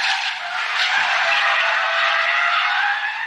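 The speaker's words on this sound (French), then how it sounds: "C'est la voiture de dérapage." Tires of a drift car screech in one long continuous squeal as it slides, loud and close, with no talking over it.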